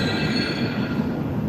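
Moscow subway train wheels squeal in a sustained, high metallic whine over a low rumble of rolling carriages at night, loud and continuous.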